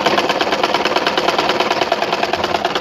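A sewing machine stitching a cloth Quran cover, a close, loud, rapid steady mechanical chatter with even rhythmic pulses running throughout.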